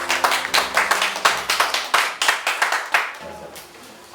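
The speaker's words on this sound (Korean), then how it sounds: "자, 그럼 박수로." An audience at a Korean citizens' tax lecture claps together, a sustained round of close, crisp hand claps that tapers off toward the end, with no speech over it.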